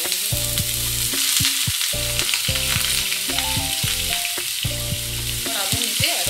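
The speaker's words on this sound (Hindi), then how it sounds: "अब हम इसे अच्छे तरीके से इसे भूनेंगे ताकि कैबेज का जो स्मेल है वो सारा निकल जाए" Boiled, drained cabbage fries in two large spoonfuls of ghee, giving a loud, steady sizzle that runs unbroken throughout with faint stirring and scraping against the pan.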